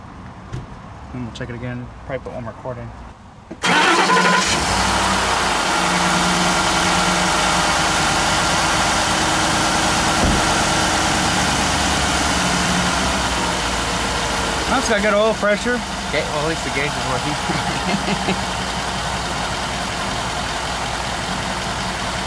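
A car engine cranks and catches, then settles into a loud, steady idle that runs on for a long stretch, with voices briefly audible early on.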